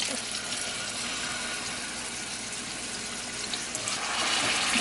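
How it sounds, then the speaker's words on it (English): A dense, continuous hiss and crackle of food sizzling in a hot pan, steady and close, with no talking. "do you guys hear that sizzling?"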